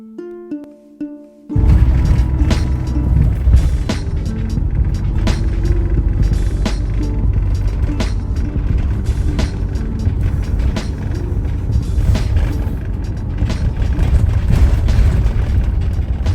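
Road rumble from inside a moving Challenger S194 camper van, a heavy 3.5-tonne motorhome, starts with a thump and continues as a steady loud low drone with occasional knocks and rattles.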